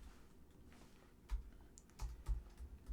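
Soft, scattered computer keyboard keystrokes while code is typed, a few isolated taps followed by a quicker cluster of clicks, close by and fairly quiet against a faint background hum.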